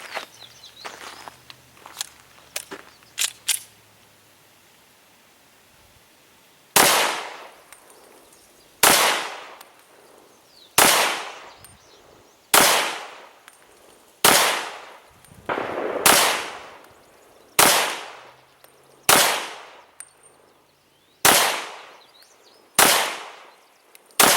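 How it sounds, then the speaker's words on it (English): A Glock 23 fitted with a Lone Wolf 357 SIG barrel fires 125 grain full metal jacket rounds at about 10 yards, twelve sharp, loud, evenly spaced shots with ringing decay, after a few lighter clicks and knocks. "with the 357 SIG barrel from Lone Wolf, shooting at about 10 yards, using 125 grain full metal jacket from Ultramax"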